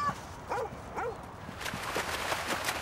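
A dog barks a few times in quick succession near the start, then softer yelps and footsteps follow over steady outdoor background noise.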